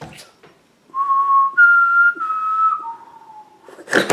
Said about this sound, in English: I'll whistle.